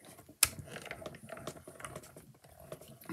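A die cutting machine runs with clicking, ratcheting mechanical sounds, a sharp snap near the start followed by uneven ticks and whirs, close and moderately quiet.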